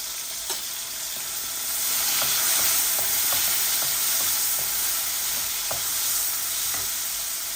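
Food sizzles steadily in a hot pan, a constant bright hiss with occasional light scraping clicks, close and without talk.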